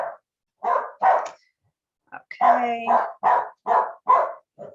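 A dog barks indoors in a series of sharp, close barks, a short pair followed after a pause by a rapid run of five or six more, with a brief spoken word mixed in.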